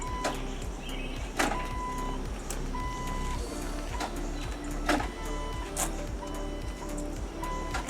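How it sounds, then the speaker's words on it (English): A 1999 Jeep Wrangler with a Titan 4.7 stroker engine has its fuel pump priming the fuel rail as the key is cycled, giving short electric whirs and clicks in repeated bursts, with steady electronic chime tones over a low background hum. "You're going to want to cycle the key a couple times to get fuel up in the fuel rail."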